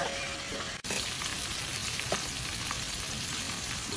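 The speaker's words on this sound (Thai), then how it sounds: "ใส่ พริกสดกับกระเทียมนะคะ เดี๋ยวเราเจียวให้หอมพร้อมก่อนค่ะ" Fresh chili and garlic frying in a wok, a dense continuous sizzle close up with one brief dropout near the start and faint scrapes, no one speaking.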